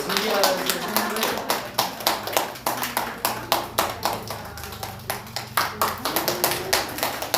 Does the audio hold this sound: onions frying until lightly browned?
no